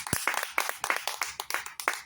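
A congregation claps in steady rhythm to acclaim Jesus Christ, the sharp, fairly close claps repeating about four per second as a continuous pattern with no talk over it.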